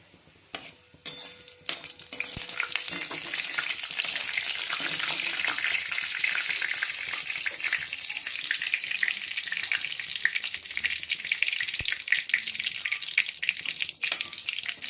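Cumin seeds and bay leaf dropped into hot mustard oil in a pan: after a few metal clinks, a loud, steady sizzle bursts up and continues close by, with faint stirring clatter.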